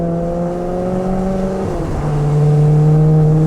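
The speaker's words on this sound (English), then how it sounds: "Just listen to that symphony. That Ferrari V8." A Maserati GranTurismo S with a 4.7-litre Ferrari V8 hums steadily, then its pitch shifts and the revs rise into a louder, richer growl; sustained and close, with no speech.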